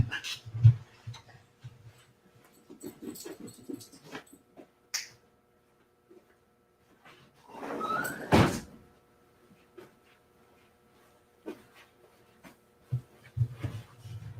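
A door is closed indoors with one loud thud after some rustling movement, set among quiet room noise and a few scattered taps and knocks.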